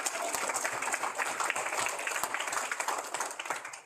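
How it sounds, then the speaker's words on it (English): Audience applause at a proclamation-signing ceremony for Sustainable September in Guam, a steady dense patter of many hands clapping for about four seconds, moderately loud and even throughout. "Let's give you all a round of applause."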